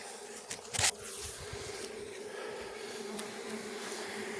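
A small swarm of honeybees flies around heavily near a hive box, making a continuous close buzzing drone with one brief louder pass near the start.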